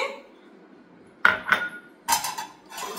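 Plates pressed and knocked together by hand to crush semolina for a cake, used instead of a broken mixer: a few sharp clinks and scraping clatters in two short bursts, close by and fairly loud against a quiet room.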